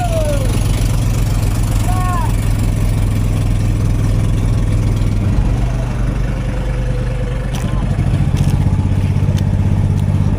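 A diesel boat engine idles on a fishing trip in Mindanao, a loud, steady low rumble that runs the whole time with faint clatter on top.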